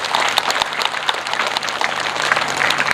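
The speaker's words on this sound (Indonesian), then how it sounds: "tepuk tangan untuk KUD" Audience at an Indonesian religious gathering marking a village cooperative's anniversary clapping in a continuous crackling burst, moderately loud, with individual sharp claps standing out over a low hum.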